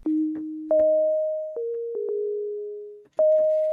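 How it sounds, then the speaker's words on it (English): A simple velocity-sensitive sine wave pluck synth patch built in Serum plays a short melodic line of clean, pure tones, each note starting with a soft click and sustaining before the next, heard alone without talk. "It's basically just a little sine wave pluck, right?"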